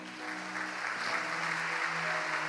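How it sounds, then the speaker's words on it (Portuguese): A church congregation claps in praise at a gospel service, a soft, even patter of applause with a faint sustained tone beneath, holding steady the whole time. "Você pode dar um aplauso ao Senhor?"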